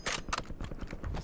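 A quick magazine change in Call of Duty Black Ops 6, a short burst of clattering metallic clicks and knocks, close and brisk, lasting barely over a second.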